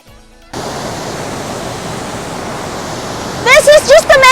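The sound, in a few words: waterfall in Minnesota in autumn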